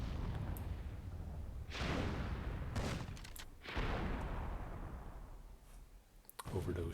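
Cannon fire in the strategy game Myth II, a few broad booming blasts with rumbling decay spread across the stretch, set against a steady battlefield din.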